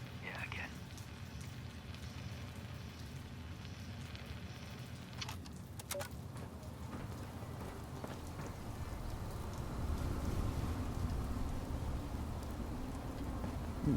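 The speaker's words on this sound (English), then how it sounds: "it's almost like it's raining" Rain falling in the game Fallout 76, a soft continuous hiss and patter that grows a little louder partway through, with a few brief crackles and murmured voices underneath.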